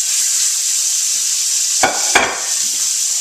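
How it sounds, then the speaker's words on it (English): Strips of fajita steak sizzle steadily in a frying pan as they brown, a loud, close hiss with two brief scraping or stirring knocks near the end. "we have them all in the pan, and the first ones I put in there are already starting to brown"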